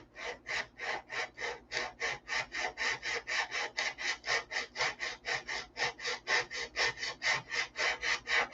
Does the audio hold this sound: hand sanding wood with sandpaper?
yes